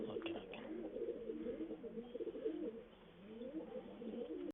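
Pigeons cooing in soft, repeated low calls, close and continuous with a muffled, slightly rough tone and no talking.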